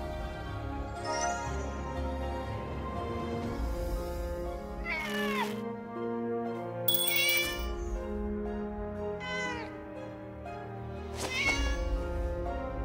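A black cat meows in the video game Escape From Oz, several drawn-out rising and falling meows set over soft background music.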